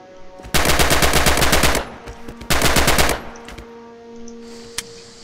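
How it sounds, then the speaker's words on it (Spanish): Two bursts of rapid automatic rifle fire at range targets in the World War II shooter Red Orchestra 2, each lasting over a second, loud and close, with a quiet pause between and a single faint shot near the end. "Pre-fire at the targets on the range."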